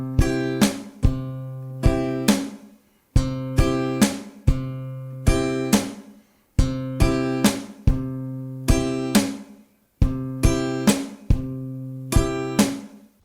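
Plucked acoustic guitar with a picked melody over a steady groove, each bar punctuated by sharp slapping body hits, looping in a repeating rhythm.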